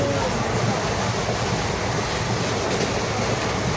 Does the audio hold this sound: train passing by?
yes